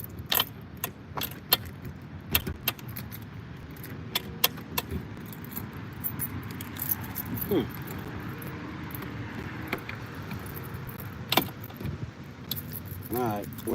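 A large bunch of keys jangles and clinks repeatedly at a door lock, close and busy in short metallic bursts over steady background hum, with a person talking at times.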